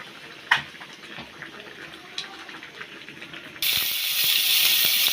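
Oil heating in a cooking pan before fish is cooked, a quiet faint crackle with a couple of small knocks, then a sudden loud continuous hiss and sizzle as something goes into the hot oil.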